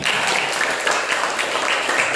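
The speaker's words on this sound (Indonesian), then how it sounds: "Ya, beri tepuk tangan kepada kita." Children in a classroom clapping together during a lesson, a continuous, fairly loud patter of small hands with no talking over it.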